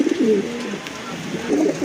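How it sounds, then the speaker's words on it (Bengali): Pigeons coo nearby in low, throaty warbling calls, one rolling coo at the start and another near the end, with faint background noise. "কবুতর জোড়া সম্পূর্ণ রানিং কবুতর ডাকতেছে"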